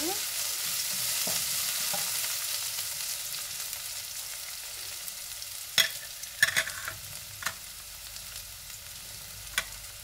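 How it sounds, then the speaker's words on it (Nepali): Black lentils (urad dal) fry in ghee with garlic and ginger, giving a steady close sizzle throughout, broken near the end by a few sharp scrapes and clinks as a utensil stirs the pan. "अब चाहिँ मैले यसलाई मजाले यसरी चलाएर फ्राई गर्छु।"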